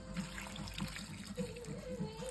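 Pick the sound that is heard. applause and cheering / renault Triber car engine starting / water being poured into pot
water being poured into pot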